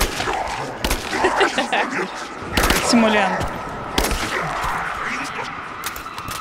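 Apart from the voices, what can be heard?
gunfire in Rise of the Tomb Raider video game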